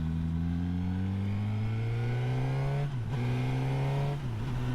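A 2021 Suzuki GSX-S1000F motorcycle accelerates onto a highway, its engine note climbing steadily in pitch through two gear changes, loud and close under constant wind.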